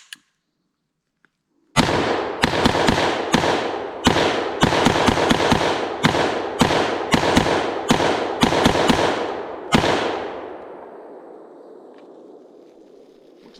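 Colt M4 Commando R933 AR pistol in 5.56 NATO test fired outdoors: a string of about a dozen loud, sharp shots in uneven rapid rhythm, with a decaying echo trailing off after the last round.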